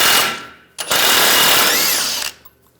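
A power tool spins a 21mm socket to remove a tie rod nut on a 2011-2018 Ram 1500 steering knuckle, giving two loud close whirring bursts, a short one then a longer one, before stopping.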